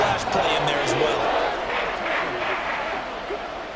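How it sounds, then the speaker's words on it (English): Stadium crowd noise in an NFL video game with the Vikings playing the Eagles, a steady roar of fans with light thumps and claps, rumbling underneath throughout at moderate volume. "this crowd trying to force a false start here"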